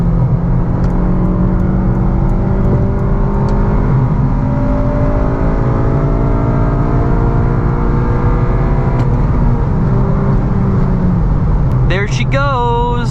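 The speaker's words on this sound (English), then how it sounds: "I am so pumped that I think I'm gonna hit VTEC one more time for this video" An 8th gen Honda Civic Si engine revs hard and climbs through its rising pitch into VTEC, loud and close, with a steady drone and changing tone toward the end.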